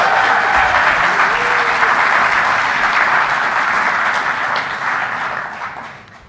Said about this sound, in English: So a round of applause for those three breweries.